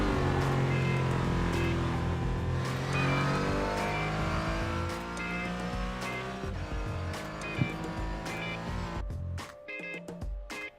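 Screaming race car engines in the iRacing video game at Barber Motorsports, with loud sustained revving and shifting pitches from several cars, tire squeals and a sharp click before the sound drops away near the end.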